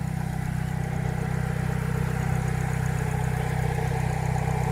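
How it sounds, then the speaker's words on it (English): A car engine runs steadily with a throaty exhaust rumble, a continuous close drone with no speech over it. "the motor, it sounds great, and the exhaust actually sounds good"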